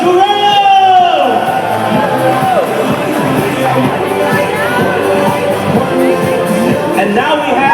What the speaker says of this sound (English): Round of applause, Jurong!